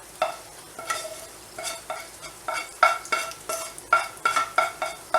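Onions and garlic fry with tender green beans in a Southern-style pan, with a steady sizzle broken by about a dozen rhythmic stirring strokes that scrape and clatter close by. No one speaks.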